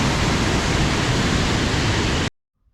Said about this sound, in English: Crossing over the North Puyallup River.